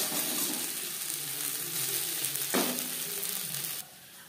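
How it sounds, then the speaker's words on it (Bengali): Mourola fish frying in hot oil sizzles loud and close in a steady hiss, with a brief stir midway, then drops suddenly quieter near the end. "পরের ব্যাচের মাছ একইভাবে ভেজে নেব"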